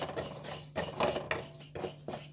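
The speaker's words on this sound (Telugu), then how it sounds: "ఇప్పుడు ఈ పెసరపప్పుని లో ఫ్లేమ్లోనే దోరగా ఫ్రై చేసేసుకోండి" Moong dal dry-roasted in a kadai over a low flame: a spoon scrapes and stirs the lentils against the metal pan in several quick strokes, with light rattling of the grains between them, close and fairly quiet.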